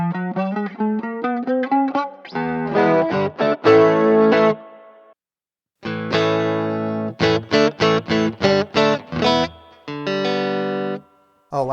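STRICH electric guitar from a beginner kit played through a loud distortion effects patch, with rapid picked runs and chords in bursts, one short silent gap midway, close and loud without talk.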